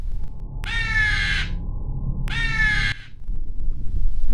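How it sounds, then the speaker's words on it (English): A crow gives two loud, harsh caws about a second and a half apart, each drawn out and close, with quiet outdoor background between them. "That's a crow."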